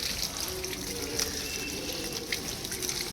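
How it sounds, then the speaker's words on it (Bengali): Water is poured over a potted flower plant, giving a continuous close splashing and trickling that stays steady throughout, with no one speaking. "চলো বন্ধুগণ, এবার একটু ফুল গাছটি একটু স্নান করানো যাক।"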